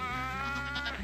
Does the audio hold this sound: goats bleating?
yes